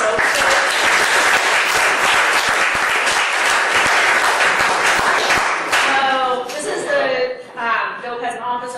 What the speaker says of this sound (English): So we should all give Dope Magazine a round of applause